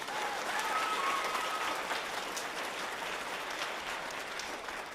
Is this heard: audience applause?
yes